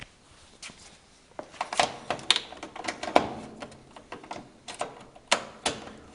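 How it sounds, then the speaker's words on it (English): Screws being removed from the back of a Roper washing machine, model RAS6233KQ1, heard as a close series of irregular metallic clicks, ticks and scraping knocks, with no voice. "What we want to do is we want to take these two screws off first."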